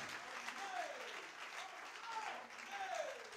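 A church congregation applauds and cheers, with dense sustained clapping and voices mingling in a reverberant hall, moderately distant and continuous throughout.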